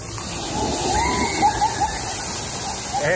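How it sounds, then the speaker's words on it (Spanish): A large tipping bucket dumps water at a pool area, a continuous heavy rushing and sloshing like a near waterfall, steady and loud throughout with faint talk underneath. "Este balde que tira pues agüita"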